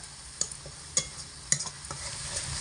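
Ground spices fry in oil with a splash of water, hissing faintly in the pan as a spoon clinks and scrapes through them in three or four distinct strokes, then a softer sizzle rises.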